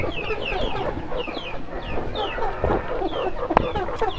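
Chickens cluck repeatedly in a farmyard before being shut in their coop, a steady chorus of short clucks with a louder squawk near the end, no talking.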